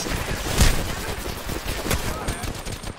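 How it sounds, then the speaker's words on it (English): Rapid automatic gunfire in Apex Legends, with a sharp burst followed by further loud, close volleys that crackle almost without pause. "I got a bad guy. Opening fire."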